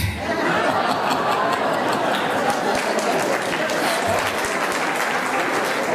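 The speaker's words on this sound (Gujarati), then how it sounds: "વાહ, મારા પુરુષોએ તાળી પાડી" Men in an audience at a Paryushan discourse clapping together, a dense, sustained round of applause with scattered chuckles and laughter mixed in.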